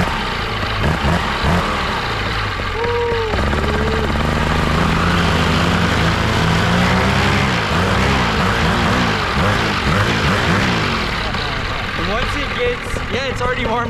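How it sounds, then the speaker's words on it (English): A paramotor's propeller engine revs up after warm-up: a loud, close droning buzz that swells and wavers in pitch as the throttle opens, with people talking over it. "Once it's at 40 Celsius, you can rev up."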